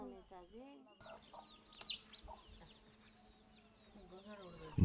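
Backyard poultry chickens in a village, soft scattered clucks and short calls at varying distances with a louder squawk midway, and a voice murmuring briefly in the background.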